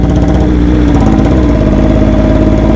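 A BMW S1000RR motorcycle engine runs close and loud, a steady throbbing idle with rapid even firing pulses and a slight rise in pitch partway through, with no voices.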